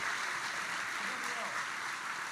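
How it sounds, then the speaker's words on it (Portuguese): Church congregation at a revival crusade clapping in praise, a dense steady wash of applause throughout, fairly even in loudness with no clear pauses. "Give the Lord a hand clap of praise."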